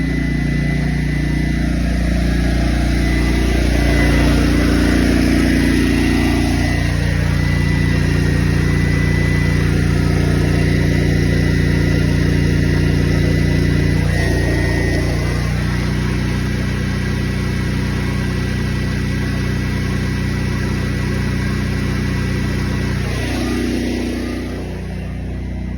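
Honda EU11000 inverter generator running on natural gas under electrical load, a loud continuous engine drone with a steady hum and a few brief shifts in pitch as the load changes.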